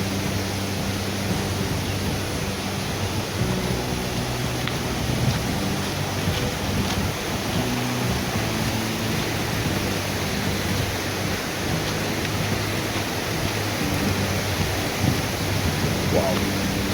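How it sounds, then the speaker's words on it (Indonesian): A river stream flowing beside a forest path on the slopes of Mount Raung, Banyuwangi, East Java, producing a steady broadband rush that holds even and continuous throughout, with no talk over it. "Kita masih menyusuri aliran sungai."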